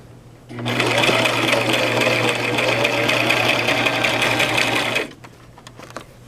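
A lightweight Brother LX 3817 sewing machine runs a steady stitching burst of about four and a half seconds, with a fast, even mechanical whir and hum starting and stopping abruptly, close by.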